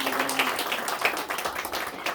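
Church congregation clapping at a Sunday afternoon service, a steady moderate round of applause filling the room with no voices.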